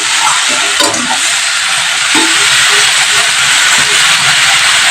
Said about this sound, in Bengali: এবার বড়িটা শুদ্ধ লাউটা তেলের মধ্যে আমি একটু ভালো করে নেড়ে নিচ্ছি।